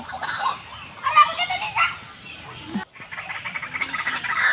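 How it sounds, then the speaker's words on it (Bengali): A dense chorus of birds nesting in village bamboo calls continuously, shrill chattering and squawks layered together, fairly close, with faint background noise. "বাঁশের গাছের ভিতরে অনেক রকমের পাখি বাসা বেঁধে আছে ওদের আওয়াজটা তোমাদের কাছে একটু শেয়ার করলাম"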